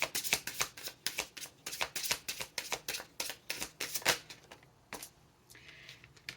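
Tarot cards are shuffled and drawn close by, a quick run of crisp riffling and flicking bursts in an uneven rhythm that slows to a couple of separate card snaps and a soft slide.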